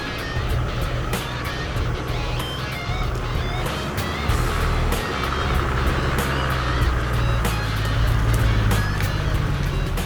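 A powerful 4WD truck drives along a bush track, its engine loud and steady with rattles and bumps from the rough ground throughout.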